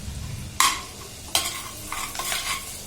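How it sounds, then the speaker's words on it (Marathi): Cumin and mustard seeds sizzle in hot oil for pav bhaji, with two sharp spattering bursts and a livelier crackle toward the end over a steady low hiss. "पहिले जिरं मोरी घालते आपण ते जरा साईडला सरकवतो"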